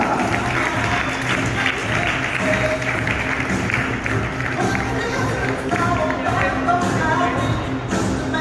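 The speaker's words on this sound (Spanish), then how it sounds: "un fuerte aplauso para Roberto de la Serna" A crowd claps loudly and continuously for a podium finisher at a karting awards ceremony, dense even applause lasting the whole stretch without pause.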